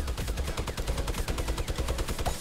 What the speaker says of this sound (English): he's got a minigun